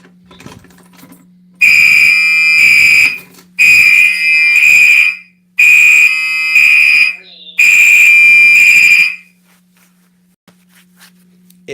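A Simplex fire alarm sounds in four loud, harsh buzzing bursts of roughly a second and a half each, set off during a smoke detector walk test on zone 4, with a low steady hum underneath and silence after.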